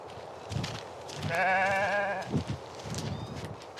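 A goat gives a wavering bleat in the middle, with other faint bleats and farmyard noises around it, nearby and moderately loud.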